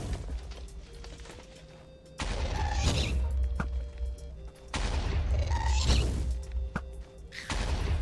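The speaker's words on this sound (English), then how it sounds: "They keep shooting at me!" Gunfire in a Minecraft-style ghost survival game: two sustained bursts of loud shooting set against a steady game background, with a few sharp cracks in between.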